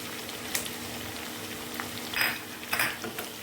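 Fish pickle frying in a pan with finely chopped curry leaves, a soft, steady sizzle with scattered sharper crackles and pops, fairly faint and without any voices.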